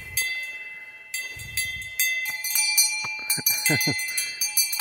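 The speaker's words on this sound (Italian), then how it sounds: "o ti dà fastidio la campana" Metallic cowbell hung on a cow at an alpine lake clanks in irregular, ringing strikes, some close and loud, sounding throughout while someone talks.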